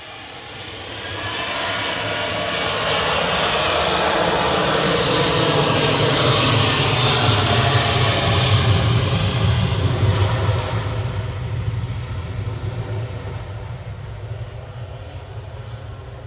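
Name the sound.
Boeing 737-800 aircraft departing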